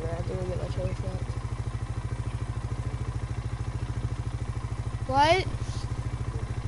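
A steady low engine drone runs throughout with a regular pulsing rhythm, as a voice briefly calls out near the end.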